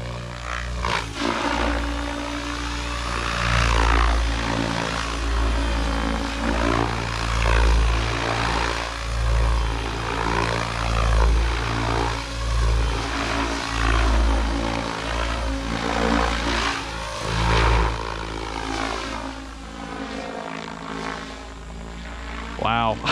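A Blade Fusion 700 size RC helicopter zips around overhead, its rotor and motor giving a loud, steady whine with pitch swells as it maneuvers, close and continuous throughout.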